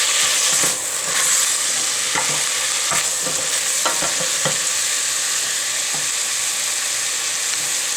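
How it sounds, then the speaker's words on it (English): Ingredients for turkey stock sizzle loudly in a pot under a constant hiss, while a spoon stirs through them with several distinct scraping strokes at irregular intervals. "Give it another stir."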